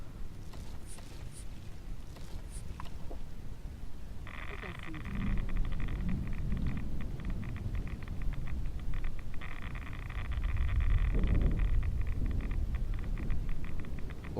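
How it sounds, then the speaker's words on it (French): A radioactive storm rolls through the Fallout 4 wasteland as a heavy, continuous low rumble, swelling louder midway and again near the end, with a steady buzzing crackle layered above it. "Orage radioactif, ok."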